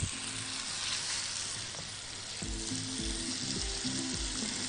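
Kofta frying fast in a very hot pan, a loud continuous dense sizzle throughout, with a faint low tonal hum underneath and no speech.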